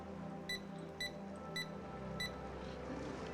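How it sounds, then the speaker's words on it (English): Rubber duck in Placid Plastic Duck Simulator beeping four times at a steady pace, short bright electronic chirps over a low ambient hum. "Oh, he beeps."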